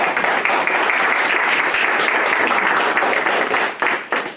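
A loud, dense round of applause fills a community hall at a words-and-music evening, steady for about four seconds before tapering off.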